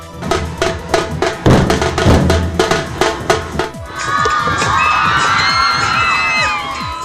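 A crowd cheers at a drama festival celebration in Solapur: loud rhythmic claps and shouts at first, then a sustained roar of cheering voices, whoops and whistles.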